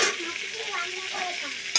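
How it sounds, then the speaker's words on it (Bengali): Pieces of papaya and potato frying in hot oil in a pan, giving a steady, close sizzle with soft stirring and no talk over it. "পেঁপেটা তেলে দিয়ে দিলাম, পেঁপেটা আর আলুটা একটু ভেজে নেব"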